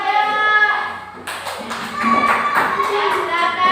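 A classroom of children claps together in a short burst of dense, lively applause, close and fairly loud, after a spoken prompt from an adult.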